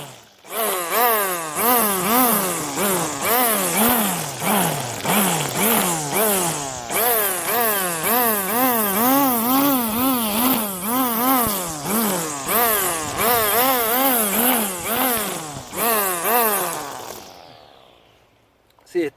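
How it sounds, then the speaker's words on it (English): A string trimmer held upside down edges grass along a straight line, its engine whining loud and close in repeated rising and falling revs before cutting off near the end. "you could just flip the weed whacker upside down, get it next to the part where you want to edge it"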